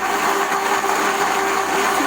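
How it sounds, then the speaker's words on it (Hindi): Blender whirring through half a litre of milk with other ingredients for rice kheer, a loud, steady motor drone held evenly throughout. "और इन सब चीज़ों को हम कर लेंगे ब्लेंड।"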